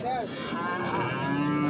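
A Sahiwal cow moos loudly and steadily for nearly two seconds at a busy rural cattle market in Dinajpur, with a lower drawn-out tone rising near the end.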